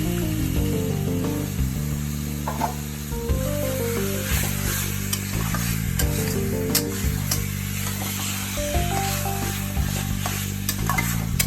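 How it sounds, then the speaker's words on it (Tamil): Chicken hits a pan of fried tomatoes while cooking chicken thokku, giving a loud, continuous close sizzle with stirring scrapes and clatter throughout, alone with no talk. "தக்காளி நல்லா ஃப்ரை ஆகிடுச்சு. இப்போ நான் சிக்கன் சேர்த்துக்கிறேன்."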